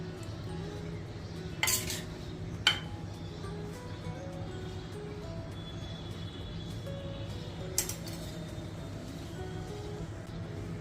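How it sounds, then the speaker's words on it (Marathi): A Maharashtrian sandge (dried lentil dumpling) vegetable curry with coriander is spooned into a serving bowl, with a few clear metal clinks of a spoon against the bowl over a low steady kitchen hum. "सरिंग बॉलमध्ये काढून घेते"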